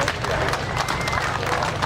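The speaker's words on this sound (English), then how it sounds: "Round of applause for Paul." Crowd applause for a trophy winner at an outdoor classic and American car show in Wakefield, a dense, continuous patter of clapping with a voice underneath.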